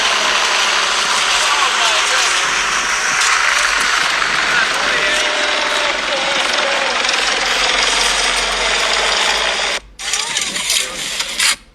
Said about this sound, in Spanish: en un momento se ve cómo se levanta un helicóptero que va a tomar estas tomas aéreas